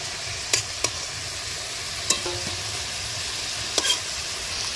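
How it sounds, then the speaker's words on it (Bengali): Marinated chicken stirred and fried in hot oil in a wok, giving a steady soft sizzle broken by a few sharp scraping clicks of the spatula against the pan, with no talking. "এই মাংসটা ভাজার সময় খুব ঘুরে ঘুরে ভাজতে হবে"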